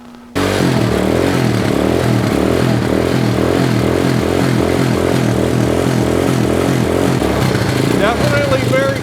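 Cheap ATV with an out-of-tune carburetor catches and runs, a loud close engine idling with an uneven, lumpy pulse and mechanical clatter, while someone speaks over it.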